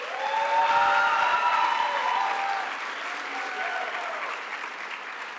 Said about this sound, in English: let's have one more collective round of applause for these outstanding students